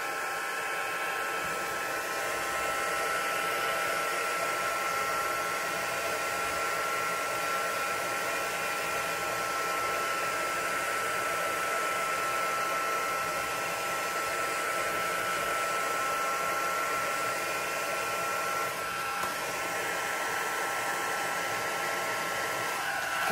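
A heat tool drying freshly stamped ink on a handmade card blows a constant, loud, even whoosh from start to finish with no talking.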